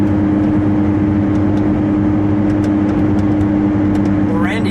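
A white 2017 Ford GT with a twin-turbo V6 cruises at an even pace, its engine holding a steady droning hum from inside the cabin with faint clicks over it and a brief rise right at the end.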